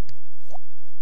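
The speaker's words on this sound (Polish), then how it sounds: "Telefon dzwoni." A telephone in The Sims on PS2 gives a short synthetic electronic ring, a single loud chirping tone with a rising blip, close and clean with nothing else around it.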